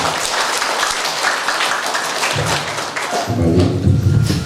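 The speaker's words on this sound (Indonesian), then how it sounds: "Mari kita berikan aplaus yang meriah" Applause fills a church during a Catholic wedding ceremony: dense, steady clapping from a crowd, loud and continuous throughout.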